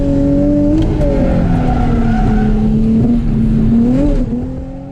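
A drift car's engine held in second gear drones loudly and steadily through a slide at a drift event, with tire squeal over it, faint irregular pops as the engine breaks up and loses power, then a brief fade at the end; no talk.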